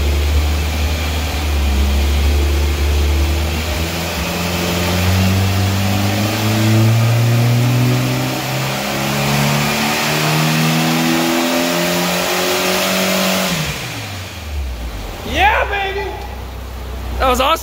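A 1994 Chevrolet Cavalier engine revs hard on a dyno, its harmonics climbing through a long sustained pull before dropping off abruptly, then voices and cheering take over at the end.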